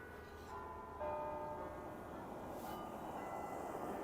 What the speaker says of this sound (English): there goes the bells on the church